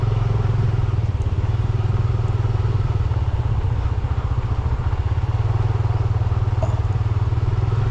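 A Yamaha PG-1 motorcycle rides along a forest track, its engine a steady, close, low throbbing drone with light clattering from the bumpy ground, holding level throughout with no talk.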